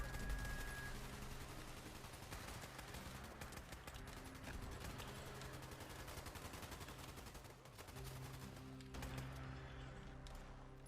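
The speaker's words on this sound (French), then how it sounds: "Ça tire encore, ça tire encore." Gunfire in the video game Fallout 76, dense overlapping bursts and rapid shots cracking continuously across a long stretch, a busy firefight with no voices over it.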